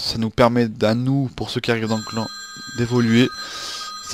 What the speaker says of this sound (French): ça c'est mon téléphone